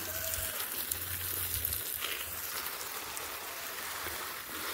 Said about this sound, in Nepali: पानी चाहिँ मजाले भिज्ने गरी हाल्नुपर्छ